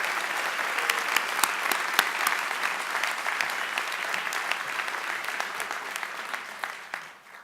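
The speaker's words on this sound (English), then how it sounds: "let's give a big round of applause to Linda and to Alex and to Sal" Audience applause at a county executive's inauguration ceremony, steady dense clapping from a large crowd that holds for several seconds and then begins to thin and fade at the end.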